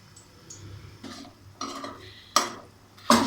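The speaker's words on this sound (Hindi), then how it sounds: "इसी तरह सारी मिर्चों को डिप करके फ्राई कर लें, अच्छा सा गोल्डन ब्राउन कर लें।" Battered stuffed green chillies fry in hot oil in a Punjabi kitchen, a low sizzle broken by a few louder crackling bursts that grow stronger toward the end.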